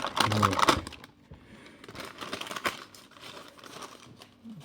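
Baking paper crinkles and rustles loudly at first, then softer crackling handling continues in short bursts, as butter is turned while laminating croissant dough.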